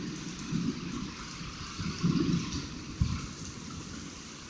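Heavy rain pours steadily during a severe storm, a dense low wash of water with soft surges and one brief knock partway through, no voices over it.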